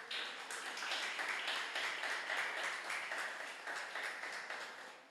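A church congregation at a family worship service claps together in steady, dense applause, close and sustained for several seconds before tapering slightly at the end.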